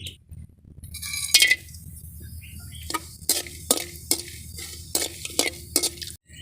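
Whole spices, including cinnamon, star anise, cloves and cardamom, fry in oil with quiet sizzling under repeated scraping and clinking strokes of a utensil, stirring in an uneven rhythm.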